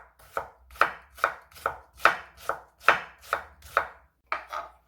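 A knife chops half a large carrot into thin julienne strips on a cutting board, about eleven crisp, evenly spaced strokes in a steady rhythm, close and clear with no talking.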